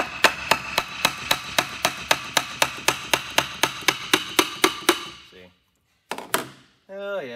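Hammer tapping out a dowel-pinned part on a Ford all-wheel-drive power transfer unit, about eighteen sharp, evenly spaced metallic strikes up close, then a short pause before a brief scrape and a squeaky mechanical sound at the end.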